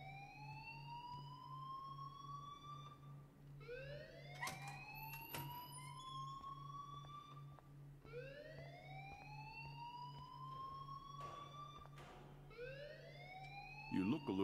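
A wailing alarm siren in the video game Life Is Strange rises and falls in long repeated sweeps, loud and steady over a low constant hum, with a few brief sharp clicks and thuds mixed in.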